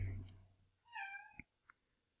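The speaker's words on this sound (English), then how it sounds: "my cat down here meowing" A house cat meows once nearby, a short rising-and-falling call, faint, followed by a couple of small soft ticks in an otherwise quiet room.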